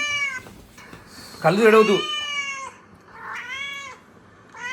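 A cat lets out several loud, drawn-out meows close by, one rougher and more strained, while a person speaks briefly between the cries.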